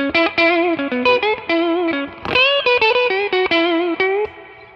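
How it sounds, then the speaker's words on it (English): An electric guitar through an EP Booster pedal on default settings plays a quick riff of chords and single notes, thick and saturated with a bright, gritty edge. "this is the EP Booster on the default settings"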